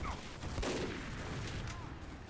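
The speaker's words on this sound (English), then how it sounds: "we're going to just start shooting at this gun" Bursts of gunfire from Team Fortress 2 hammer at an enemy sentry gun in a rapid, steady volley that sits close and fairly loud, with game noise blending underneath.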